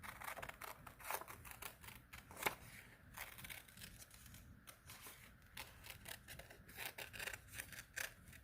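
Scissors snipping through paper card for a pop-up folk art card, a run of faint close crisp cuts in uneven rhythm, no talk.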